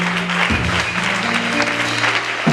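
A church congregation applauds at a Sunday school closing service, a steady wash of clapping that runs throughout, with a low hum and some voices underneath.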